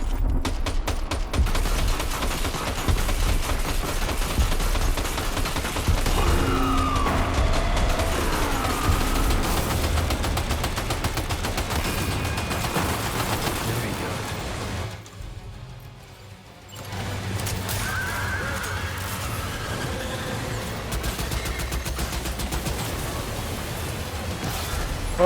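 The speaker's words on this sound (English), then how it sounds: "he's helping me shoot" Sustained gunfire in Death Stranding 2, a dense continuous barrage of shots with crashing impacts, broken by a short lull in the middle before resuming.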